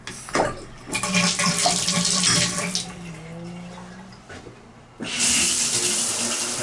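Water runs hard from an apartment shower tap set to hot, with a steady hiss, a brief dip, then a loud rush resuming, close by and with no talking.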